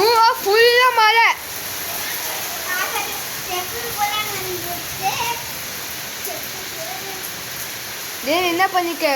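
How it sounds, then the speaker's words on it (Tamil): Heavy rain pours steadily during a thunderstorm at a home in Sivaganga, a constant broadband hiss throughout, with a voice speaking over it at the start and end. "இது ஃபுல்லா மழை."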